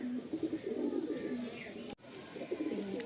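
Old-line Giribaj pigeons coo in soft, repeated throaty rolls nearby, a low murmuring chorus that carries on through a brief break.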